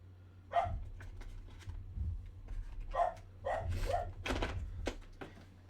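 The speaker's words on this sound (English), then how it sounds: "my dog is definitely barking at something." A pet dog barking indoors, several sharp separate barks spaced irregularly over a few seconds, fairly close and unaccompanied by talk.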